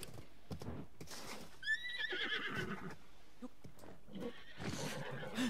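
Horse neighing in the video game Zelda Breath of the Wild: a clear, rising whinny at mid-distance, with hoof clip-clop and scattered game noises before and after it.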